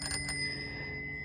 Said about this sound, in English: it's the only bike I have that has a bell